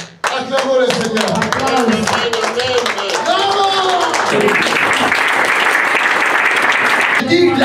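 A church congregation at a Thursday healing and salvation service bursts into loud, sustained applause and clapping mixed with cheering voices, steady and dense throughout, with a brief dip near the end.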